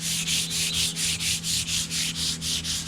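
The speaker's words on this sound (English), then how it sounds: "I'm just going to give it a light sanding because the first coat dried" A boat table with a dried first coat of finish gets a light sanding by hand. Quick, regular back-and-forth strokes of about four per second are heard up close over a faint steady hum.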